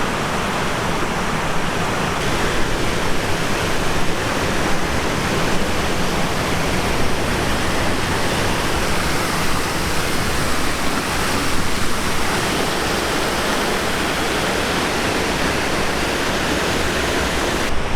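A creek rushes beneath a trail bridge along the Great Divide Trail, a loud, continuous broadband roar of flowing water that stays steady and close with no speech.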